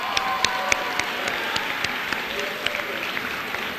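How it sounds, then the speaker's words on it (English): An audience claps at a high school senior awards assembly in a gym or auditorium, a steady dense applause with a few sharper claps standing out, lasting a few seconds. "Another round of applause for all of them."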